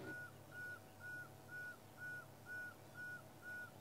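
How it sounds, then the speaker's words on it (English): A pearl-spotted owl calls from a nearby tree, repeating a clear whistled note about twice a second in a steady series, faint over quiet outdoor background with no talking. "And a pearl-spotted owl next to us here in the tree."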